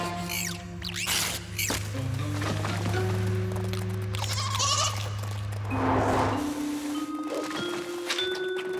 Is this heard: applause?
no